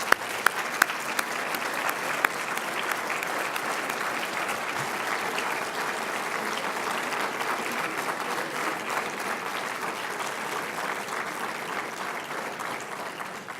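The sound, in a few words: audience applause for the students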